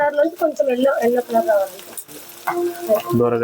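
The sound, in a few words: nalleru stems and chillies frying in oil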